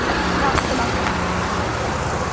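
Highway traffic at night, a steady broadband roar of passing vehicles with a brief swishing pass partway through, heard from close by under some faint speech.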